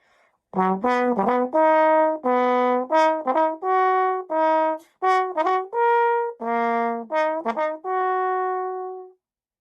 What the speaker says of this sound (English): My instrument is called the trombone,